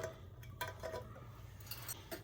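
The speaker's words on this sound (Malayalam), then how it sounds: "നമുക്ക് കുക്കറിലേക്ക് ഇട്ട് കൊടുക്കാം." Soaked chickpeas tipped into a pressure cooker in a home kitchen, giving light, faint clinks and rattles of metal and utensil in a few short bursts with quiet pauses between.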